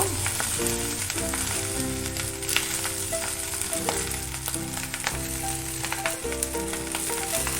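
Chicken fried rice with spring onions sizzles and crackles in a hot pan as it is stir-fried, a steady dense frying sound beneath a loud continuous backing of music.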